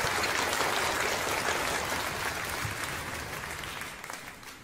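A concert audience at the Cung Đàn Hạnh Ngộ performance applauds the artists. The clapping is broad and sustained, tapering gradually in the final seconds.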